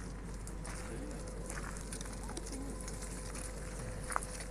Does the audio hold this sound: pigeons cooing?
yes